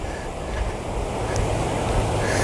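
Strong outdoor wind buffets a microphone while a Zino Mini Pro drone is flown, producing a loud, continuous roaring rumble that covers everything else.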